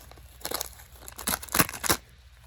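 Scissors cut and tear open packaging from a Spirit Halloween 2022 unboxing, giving several crisp, crinkly bursts close by, the loudest clustered near the end, with no talking.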